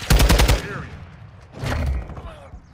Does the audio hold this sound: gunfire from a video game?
yes